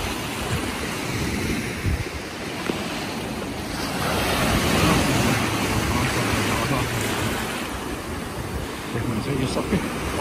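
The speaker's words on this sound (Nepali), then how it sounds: "ठुलो लहरहरू आइरहेछ" Big waves roll in on the Caspian Sea shore at a beach in Baku, a steady broad surf roar with gusting wind buffeting the microphone throughout.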